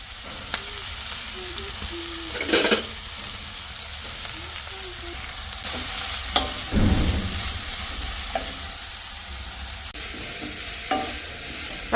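Snake gourd stir fry, mezhukkupuratti, frying in a pan with a soft continuous sizzle, broken by occasional spatula scrapes and clatters, a few quiet background sounds, moderately close.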